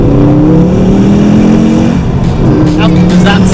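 Ford Focus RS mk2 exhaust rumbling loudly and steadily under a held engine note, swelling as the revs build, close and continuous with a voice speaking over the end.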